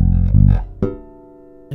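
A few low, plucked bass guitar notes with no effects ring out clean and dry, one decaying slowly before a final short pluck.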